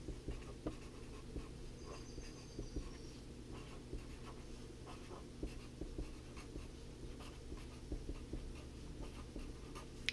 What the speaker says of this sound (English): I'm going to write that title up top.